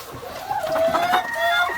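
A few hens on a small poultry farm cluck and murmur close by, a short run of soft, rising calls with brief higher notes.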